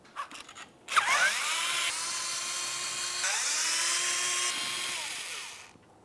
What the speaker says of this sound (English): Let's remove all 4 of these T30 Torx bit screws.